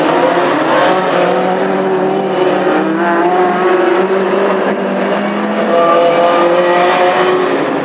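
Classic hot rod race cars roaring round a Birmingham oval on installation laps, several engines droning and revving together in a dense, loud, continuous wash with no talk.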